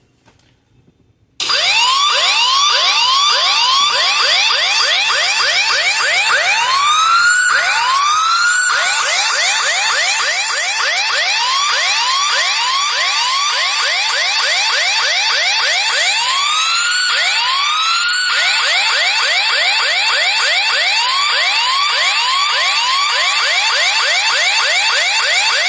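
An iPhone 15 Pro Max speaker plays a tune loudly after a short silence, with bright swooping notes repeating in a steady pattern for over twenty seconds and no voices.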